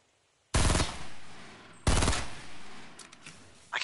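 Gunfire in a first-person shooter video game, with a Famas rifle in play: two loud close bursts of rapid shots, the first around half a second in and the second near two seconds, each trailing off, then a sharp return at the very end.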